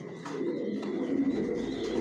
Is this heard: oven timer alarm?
no